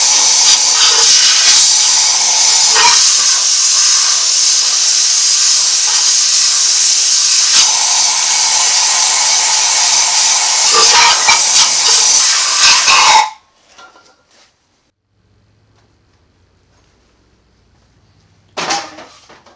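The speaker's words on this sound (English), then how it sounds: "We're just going to hit it with air compressor." Loud, steady hiss of compressed air blown into a rally car engine's cylinders, running continuously for about thirteen seconds, cutting off abruptly into near silence, with a brief burst returning at the end.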